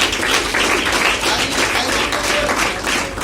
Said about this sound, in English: give them a very round of applause